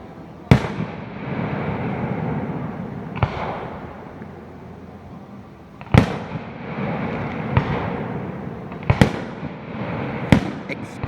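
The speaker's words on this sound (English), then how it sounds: "Explosions." Fireworks launched from a school below a mountain town in Loniconing, Maryland boom at a distance, several sharp bursts spaced irregularly with rumbling crackle between them.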